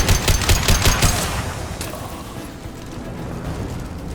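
Rapid gunfire from Blue Suns mercenaries in a Mass Effect 2 battle on Omega, a close burst of automatic shots in the first second, then a distant rattle under a low rumble.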